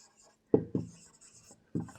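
Handwriting on paper, a few short scratchy pen strokes in quick bursts with pauses between, close and quiet in a still room.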